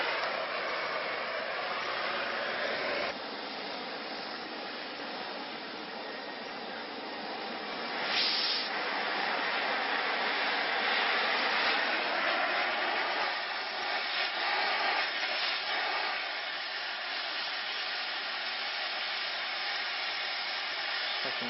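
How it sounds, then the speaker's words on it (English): A steel beam is cut during a Detroit Diesel 8V71 project, making a continuous loud hissing roar that holds steady for a long stretch with slight swells in intensity. "cutting some steel beam for the support for the radiator"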